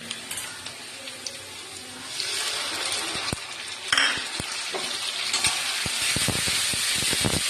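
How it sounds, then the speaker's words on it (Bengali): Spice masala sizzles in hot oil with fried potatoes for a spicy lote fish curry, a steady close frying hiss with sharp clacks of the spatula stirring and scraping the pan, growing busier toward the end. "মশলাটা ঢেলে দিলাম, এবার একটু সামান্য মতন হলুদ গুঁড়ো দিয়ে দেবো"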